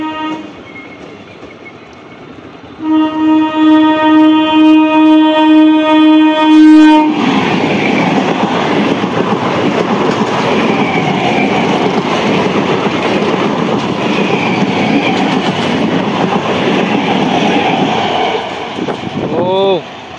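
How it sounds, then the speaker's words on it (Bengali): The Bandel–Katwa local train 37749 approaches Balagarh station on the Howrah–Katwa line with a long, sustained horn blast. A loud, close rush of wheels and carriages follows as it speeds past. "37749 ব্যান্ডেল কাটোয়া লোকাল।"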